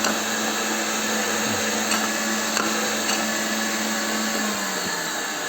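Zelmer 987.83 electric meat grinder motor running during repair, with the drive spinning only when pressed. It gives a steady, loud mechanical hum with a whine and a few faint clicks, and no voices.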